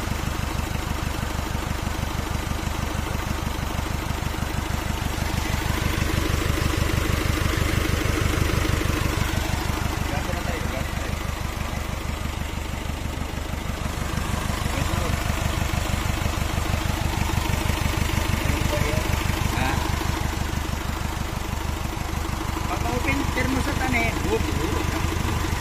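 Motorcycle engine idling just after starting, a steady close low chugging putter that swells and dips slightly in loudness throughout, with people talking over it.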